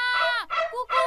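A cartoon dog gives three quick, loud, high-pitched barks, close and back to back. The barks are voiced in animation style, so a person may be imitating the dog.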